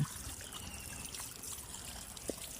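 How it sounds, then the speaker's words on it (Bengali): Water trickles and runs steadily as a sports car is washed, quiet and continuous, with a small knock near the end. "এই যে দেখতে পাচ্ছেন আপনারা, আমরা ধুচ্ছি, সুন্দর করে ধুতে হবে।"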